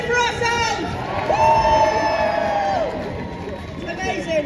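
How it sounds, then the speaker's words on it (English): Crowd at a pro-Palestinian protest march in Leeds cheering and whooping loudly for several seconds, with high shouts and whistles rising over general babble, close and lively throughout. "Let's have another cheer for ourselves."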